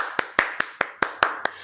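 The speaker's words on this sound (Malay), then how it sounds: "Tepuk tangan sikit." Pupils clapping their hands in a live maths class: seven sharp, evenly spaced claps in quick succession, close and distinct, with no talking.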